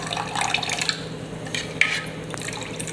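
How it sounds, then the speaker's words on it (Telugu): Water poured and trickling into ground jowar flour in a pot to make a thin batter for jonna gatka, with soft liquid splashes, drips and light stirring close by. "వాటర్ పోసుకొని కావాల్సినంత వాటర్ పోసుకోవాలి జారుడుగా"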